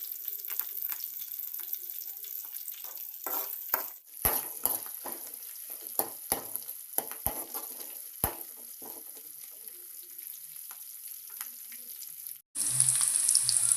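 Ginger and curry leaves fry in hot oil with a steady sizzle and scattered crackles and pops. Near the end it cuts off abruptly and a different sound takes over.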